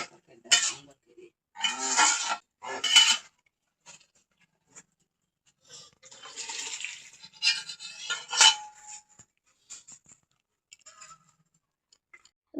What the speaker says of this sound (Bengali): নেড়ে দিয়ে দাও ওটা।